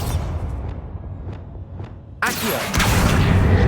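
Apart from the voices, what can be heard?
Bombarda explosive spell blast in the video game Hogwarts Legacy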